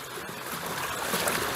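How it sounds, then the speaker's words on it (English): Remote control toy dolphin spraying water from its blowhole, a continuous watery splashing and trickling hiss, fairly close and steady. "it's shooting water out of the blowhole"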